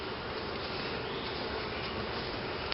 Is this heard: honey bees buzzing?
yes